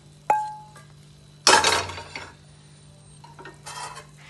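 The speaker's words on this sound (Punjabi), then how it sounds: "ਆਪਾਂ ਚਮਚ ਦੇ ਨਾਲ ਨਾ ਐਸ ਤਰ੍ਹਾਂ ਕਰਕੇ ਇਹਨੂੰ ਮਿਕਸ ਕਰ ਦਿਆਂਗੇ" A spoon mixes sesame seeds on a plate, with a sharp clink, then a burst of scraping and rustling, and later softer scrapes, close and without talk.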